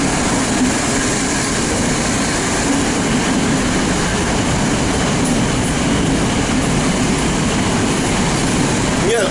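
A Moscow metro train rides through its tunnel in a steady, loud, continuous rumble of wheels and car noise, close and unbroken throughout, with no clear speech.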